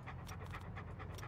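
A dog pants in quick, steady breaths in the video game Hobo Tough Life, close up and alone for a brief moment.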